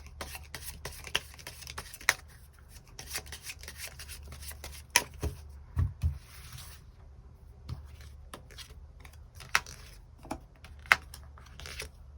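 Tarot cards are shuffled close by in a quiet room, a string of sharp flicks and soft rustles scattered irregularly over the stretch, with a low steady hum beneath.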